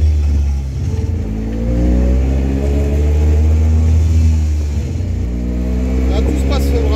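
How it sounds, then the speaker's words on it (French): A 1961 Bond microcar three-wheeler's small engine while driving, a loud continuous buzzing drone that rises in pitch through gear changes, with someone talking over it. "On a quand même un moteur qui est volontaire entre chaque reprise quand on passe les rapports."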